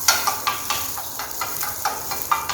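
Sliced button mushrooms sizzling in a pan with butter added bit by bit, a steady close hiss broken by regular stirring scrapes and light clinks, with no talking.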